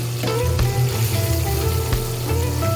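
Chicken pieces frying in hot oil, a dense continuous sizzle with crackling pops and bubbling, close and steady, no talk.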